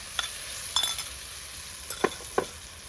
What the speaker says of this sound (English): let this curry paste fry